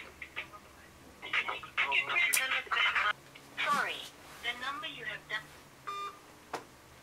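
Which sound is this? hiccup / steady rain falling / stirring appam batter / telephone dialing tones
telephone dialing tones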